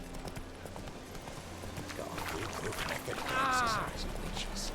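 Horse hooves gallop in The Witcher 3 with a steady, close clip-clop rhythm over game ambience, and a short whinny rises near the end.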